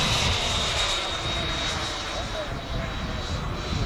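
An HSD Jets T-33 model jet with a 120mm electric ducted fan running at full throttle, a loud steady whooshing roar with a thin high whine, heard close by with people talking over it.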